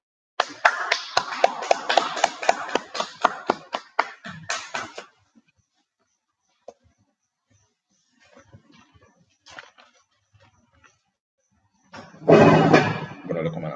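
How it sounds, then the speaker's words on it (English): A group clapping, a brisk burst of many quick hand claps for several seconds, then scattered faint taps, and a loud, noisy burst near the end. "let me clap it up"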